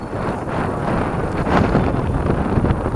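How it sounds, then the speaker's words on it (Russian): Strong wind gusts across open steppe country near Arey Lake, buffeting the microphone in a loud, continuous rushing roar that rises slightly toward the end, with no voices. "Вот такой у нас ветер. Без комментариев, насколько сильный ветер."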